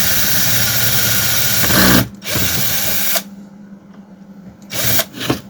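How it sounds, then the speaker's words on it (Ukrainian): A tool whirs loudly while backing out the chain tension screw on a Chinese budget chainsaw. A long, steady run cuts off abruptly, then a quieter stretch is followed by short renewed bursts. Nobody talks. "Гвинт натяжки ми викрутили"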